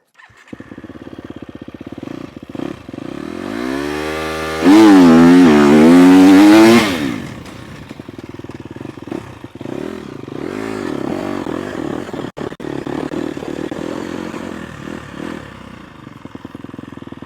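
A motocross bike at a race start gate revs hard in a loud, rising wail, then drops back to a rough, uneven idle with scattered clatter and some scraping, all close to the microphone and with no talking.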